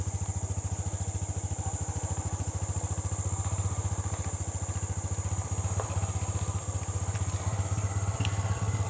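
A small Yamaha PG-1 motorcycle engine runs close by with a steady, even putter throughout, a constant thrumming beat with no clear rise in revs.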